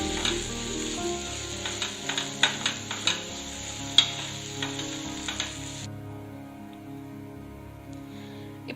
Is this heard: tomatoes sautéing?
yes